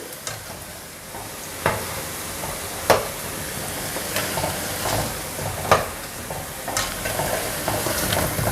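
Punugulu fritters fry in hot oil with a steady, close sizzle, broken every second or so by brief scrapes and clacks as they are stirred and turned.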